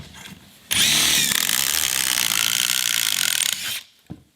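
A power drill bores the center pocket hole through wood clamped in a Kreg jig, sounding as one loud, close, steady whirring grind that lasts about three seconds before it winds down and stops.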